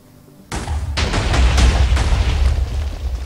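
Minecraft TNT block detonating: a sudden loud boom at half a second, then a sequence of further rumbling blasts that sustain a heavy, dense roar through to the end.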